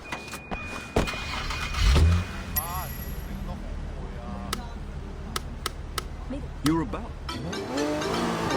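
Car driving in the Sleeping Dogs video game, with engine hum, brief tire screeches and impact bursts under busy city noise while a voice speaks over it.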